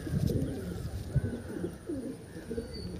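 Pigeons in a loft, red and purple pied birds, give soft low coos now and then against faint background noise.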